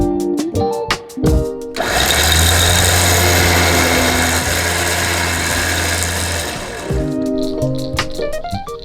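A houseboat engine on a Louisiana swamp runs steadily for several seconds as the boat leaves a cove, a loud, close drone with a low hum, starting and stopping amid other tonal sounds.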